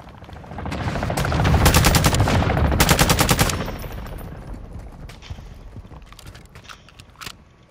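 Automatic gunfire in the game DMZ comes as two loud, rapid bursts close by, followed by scattered single shots and mechanical clicks fading into quieter background noise.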